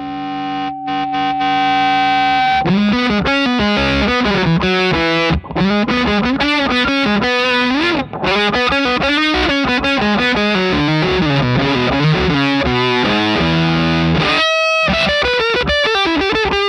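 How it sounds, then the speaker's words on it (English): A DIY Flugelhorn Fuzz guitar pedal from PedalPCB drives an electric guitar into thick, saturated fuzz distortion, playing sustained notes and bending melodic phrases with brief pauses, loud and upfront with no talking. "It's the Flugelhorn Fuzz by pedalpcb.com."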